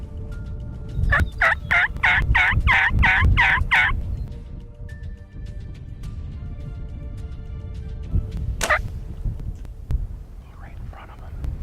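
Wild turkeys gobbling during a spring turkey hunt, a rapid burst of about eight loud gobbles in quick succession, then a single sharper call later, over outdoor background noise.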